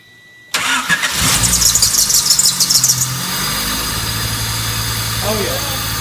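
A hatchback engine, just after a valve adjustment, cranks over briefly, then catches and settles into a steady, even idle close by, with no misfire evident.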